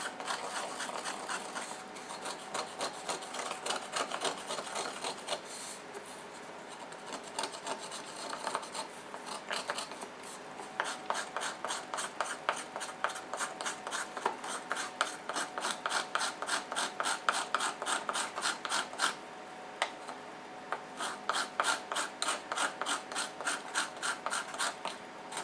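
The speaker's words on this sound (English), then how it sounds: "Do some more grinding." Pigment being ground by hand with a muller on a slab, a steady rasping scrape repeated in quick strokes that speed into a dense rhythm, close and fairly quiet, with no talking.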